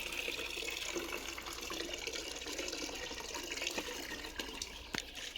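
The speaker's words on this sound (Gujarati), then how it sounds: "પાણી ભરી રહ્યા છે" Water runs from a tap as a container is filled, a steady, fairly faint splashing rush with a few small knocks near the end.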